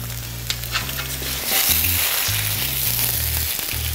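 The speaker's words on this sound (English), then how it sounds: "Now we're gonna throw the potatoes on." Parboiled potatoes hit a hot flat top grill beside searing steaks, with a loud, steady sizzle that swells as they land and keeps crackling close up, along with occasional scraping taps.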